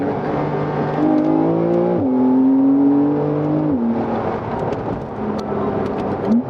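A Porsche 911 Carrera S (992) engine revs hard with rising and falling pitch, dropping sharply as it downshifts twice at around 5000 rpm, loud and close with no talking.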